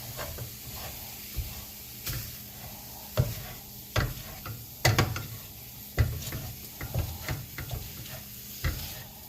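A wooden spoon stirs sloppy joe meat in a pan over a gas flame, giving repeated scraping knocks and soft sizzling at a steady close range, with no talk over it.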